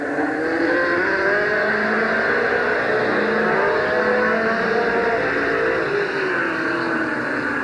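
Race cars circle Midvale Speedway during the 1988 fall classic, a continuous loud, dense engine roar with shifting pitch as the field runs lap after lap, no voices over it.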